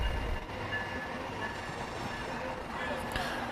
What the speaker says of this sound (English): And here comes the train again.